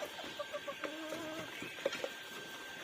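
A few soft clucks and calls from pet chickens, two roosters and a golden hen, kept at home, come through quietly over a low background hum.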